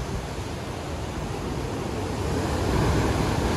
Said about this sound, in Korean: 파도 너무 살벌한 거 아닌겨